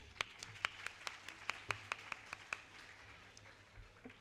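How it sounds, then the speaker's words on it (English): A few scattered claps ring out at a children's celebration, about a dozen distinct sharp hits in a loose, uneven rhythm over roughly two and a half seconds, then trailing off. It is quiet and sparse, with a faint low hum underneath. "Please give him a big hand."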